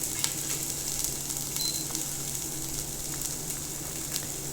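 Onions and garlic sautéing in oil in a pan give off a steady, faint crackling sizzle with occasional small pops, close by and uninterrupted.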